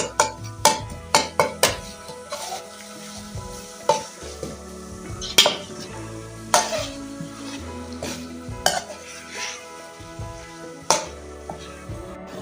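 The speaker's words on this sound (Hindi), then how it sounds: "अब हम इन्हें 10 मिनट तक अच्छी तरह से भून लेंगे, ताकि मसाला जो है अच्छी तरह से इनमें मिक्स हो जाए सारा।" Chicken feet fry in masala with tomatoes in a pot, as a spoon repeatedly scrapes and clatters against the metal over a continuous sizzle, with close, uneven knocks throughout.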